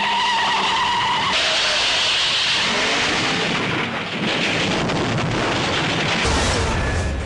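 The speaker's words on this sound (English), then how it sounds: "James Bond car chases have come a long way. This was the very first one from Dr. No" Car chase from the first James Bond film, Dr. No, with a loud, continuous roar of speeding car engines, screeching tires and rumbling noise that stays dense and steady throughout, with no talking.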